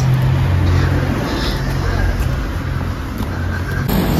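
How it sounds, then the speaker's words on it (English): A bus rumbles along a German street at close range, a loud continuous engine drone with low throbbing tones and traffic wash, while someone talks over it. "So this is the bus"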